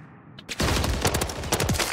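Rapid automatic gunfire in Call of Duty: Modern Warfare 3, a loud burst of closely spaced shots erupting after a brief quiet moment and continuing in a rattling stream.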